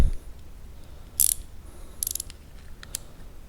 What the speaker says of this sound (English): And then you get your ratchet.